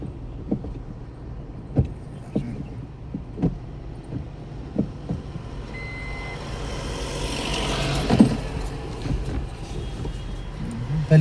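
A learner's car slowly reverses during a driving lesson, with a low steady engine rumble and regular soft thumps, growing louder and broader toward the end, with no talking.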